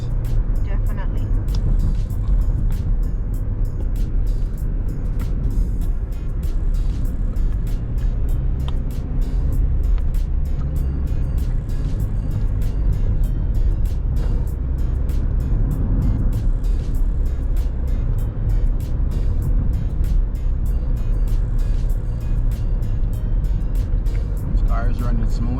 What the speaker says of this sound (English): Cars running smooth.